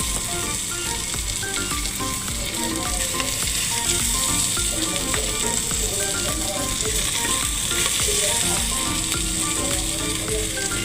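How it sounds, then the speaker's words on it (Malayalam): Marinated sardine pieces, spiced with chili masala, sizzle and crackle steadily in a pressure cooker, a loud continuous fry with occasional stirring clinks, no voices. "മീൻ കഷ്ണങ്ങൾ നിരത്തി വെക്കാം."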